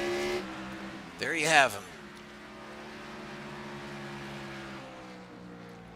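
A race car's engine holds a steady, even drone as the driver eases gently on the throttle out of a hairpin, with a brief louder burst early on and a commentator talking over it.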